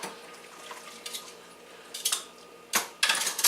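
Metal pans scrubbed with steel wool, giving scattered scraping and clattering bursts of cookware that grow louder toward the end, with no talking.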